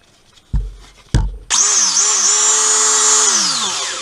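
A cordless cut-off tool, a knockoff DeWalt XR model fitted with a Makita-to-DeWalt battery adapter, is bumped twice, then spins up and runs loudly and steadily with a high motor whine, dipping slightly before winding down.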